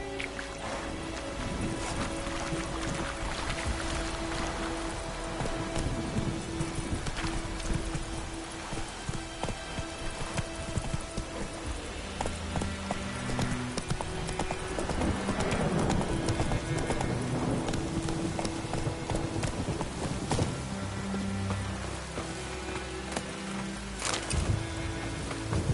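Steady hoofbeats of a horse galloping in The Witcher 3, a continuous clip-clop rhythm running throughout over a bed of ambient game sound, with no voices heard.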